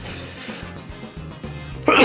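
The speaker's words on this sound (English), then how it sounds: "Oh, excuse me for the sneeze." A single sneeze bursts out loudly near the end, after a stretch of quiet low-pitched background sound, close to the microphone during a Pokémon Unite ranked discussion.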